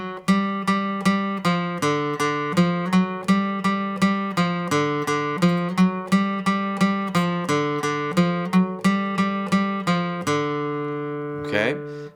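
Acoustic guitar plucks a simple single-note melody on the fourth string, a steady run of evenly spaced notes with a closing strum, close and clear with no talking.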